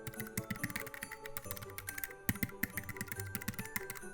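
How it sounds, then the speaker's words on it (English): Quiet, rapid clicking of keys on a computer keyboard, a continuous stream of light taps. "adjust your speed before typing in a festive question like this"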